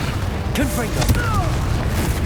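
A Confringo spell blast in Hogwarts Legacy gameplay, a brief booming burst with swooshing tonal magic effects, loud and close, as a voice calls out over it.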